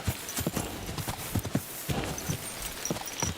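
Horse hooves clip-clop steadily through a hardcore-mode video game, a regular close rhythm of hoofbeats with a faint bit of background noise.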